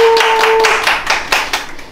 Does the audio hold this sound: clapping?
yes